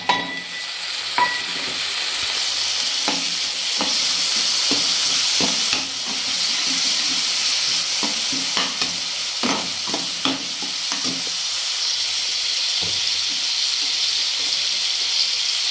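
Tomatoes fry in a hot pan with a constant sizzle, while a spoon stirs and scrapes in irregular clicks and knocks; steady and close, with faint water-like hiss in the background.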